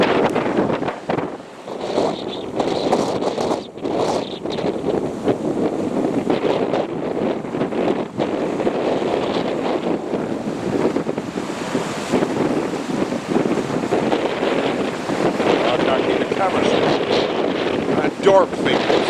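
Strong wind buffets the microphone outdoors, roaring and gusting continuously for the whole stretch, loud and rough, with faint voices now and then beneath it.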